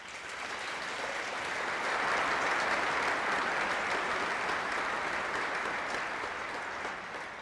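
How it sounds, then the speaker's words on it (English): Audience applause at a Twilight Tattoo military performance honoring Senator John McCain, a steady, sustained wash of many hands clapping, heard from a distance and swelling slightly in the middle. "Now but a round of applause."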